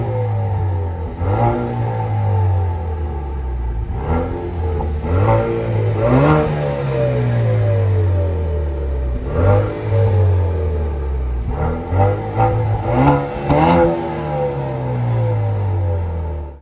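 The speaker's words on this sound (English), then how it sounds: "It's a good four-cylinder sound," A 2019 Chevrolet Camaro 1LT 1LE with a four-cylinder engine is revved repeatedly. About half a dozen throttle blips rise and fall in close succession, loud and near, with no voices.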